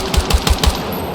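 Machine-gun fire in the video game Battlefield 6 during a combat mission: a close, loud burst of four rapid, evenly spaced shots, each with a heavy low thump, then a fading tail with no talk.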